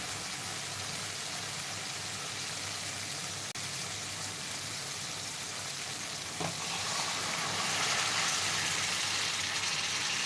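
Chicken and soup sizzling in a hot pan for a black rassa chicken curry, a steady dense frying hiss throughout that swells louder in the second half, with no talking.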